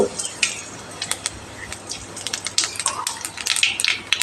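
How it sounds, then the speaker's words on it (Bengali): Dried chillies and nigella seeds tempering in hot oil in a pan, a busy crackle of sputtering pops and sharp sizzling bursts, close and moderately loud, with some light utensil clinks through the stretch. "এবার এই তেলের ভেতরে শুকনো ঝাল আর কালো জিরে ফোড়নে দিয়ে দেব"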